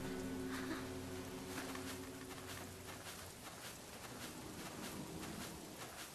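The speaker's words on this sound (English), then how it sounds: "Oh, man, it starts raining." Soft, steady video-game rain patters continuously with faint scattered drops, a low hum fading out early; no voices.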